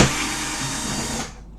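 A power tool unscrews screws from a JVC LT-32C660 TV, a loud close whirring buzz that holds steady and then cuts off and fades.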